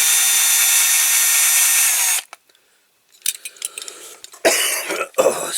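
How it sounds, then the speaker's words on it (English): A power drill whirs close by, stops abruptly, and then a person coughs and clears their throat in several rough bursts at a workbench during a toy truck restoration. "I've still got that flipping cough"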